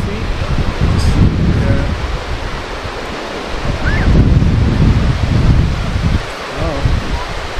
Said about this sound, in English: I like the waves though. You see how the waves is.